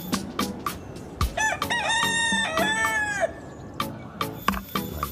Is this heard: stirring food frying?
no